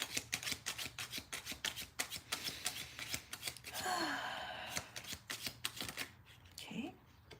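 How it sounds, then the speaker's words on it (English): Tarot cards riffle in quick, crisp bursts of rapid flicking, close and fairly loud, with a brief rustling sweep midway and short pauses between runs. "I'm going to just riffle through these cards, and I'm going to allow the cards themselves to tell the next chapter"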